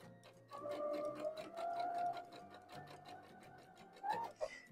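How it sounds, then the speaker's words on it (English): A sewing machine stitches fabric with a steady, fast mechanical chatter and motor whine, slowing briefly near the end, quiet and close with no talking. "Slowly stitch right onto the fabric"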